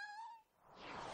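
A cat in an animated series gives one drawn-out, tonal meow that slides into a breathy hiss, close and fairly loud, with no talking.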